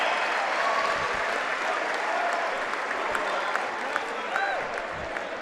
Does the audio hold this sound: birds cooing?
no